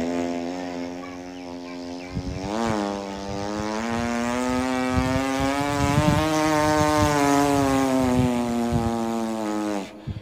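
A man vocally mimics a motorcycle accelerating hard, a brief low idle followed by a sharp rising rev into a sustained loud, close engine drone that holds high and then cuts off abruptly.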